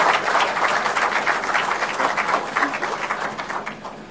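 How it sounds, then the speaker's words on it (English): An audience at the Nairobi launch of Safaricom Ziidi Trader, presided over by President Ruto, applauds with sustained, dense clapping that tapers off slightly at the end. "So we can give him a round of applause."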